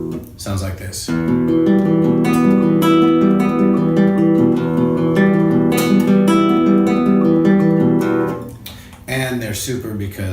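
A plucked guitar rolls through a sustained run of notes for several seconds, ringing together, then stops briefly before a few more notes.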